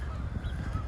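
Geese honk in a spring outdoor setting on a city walk, with the honks blending into a dense, continuous bed of outdoor noise that lasts about a second.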